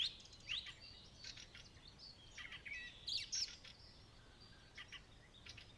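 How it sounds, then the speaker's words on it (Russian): Dawn birdsong outdoors: several birds chirp and trill in quick, overlapping bursts throughout, moderately near, over a quiet background with no talk. "растут и интенсивность, и эмоциональная насыщенность птичьих песен"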